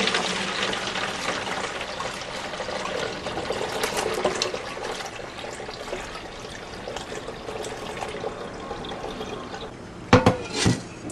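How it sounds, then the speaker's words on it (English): Pho beef stock is poured through a cheesecloth-lined strainer, giving a steady liquid trickle and splash with faint clinks of a pot, ending in a few sharper knocks. "We're going to take our strainer with our cheesecloth in it, and we're just going to pour our stock"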